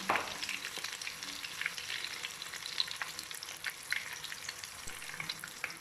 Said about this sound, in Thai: เดี๋ยวเราจะเอาตะหลิว มา กวักน้ำมันเพื่อให้เขาสุกให้ทั่วนะคะ